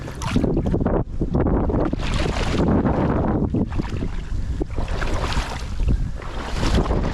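Strong wind blows outdoors and buffets the microphone with loud, continuous roaring gusts and rumbling, steady throughout with brief dips, and no talking.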